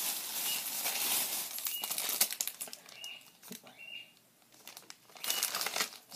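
A pet bird flutters frantically inside its cage, bursts of flapping wings and rustling with brief crinkly scratches, fairly faint and close, easing for a moment before picking up again.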